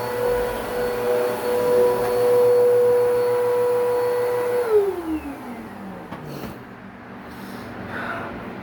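A 2191u vacuum cleaner runs with a steady motor whine that abruptly drops and winds down partway through as the failing motor sounds like it is dying, leaving a low rumble and faint handling noises.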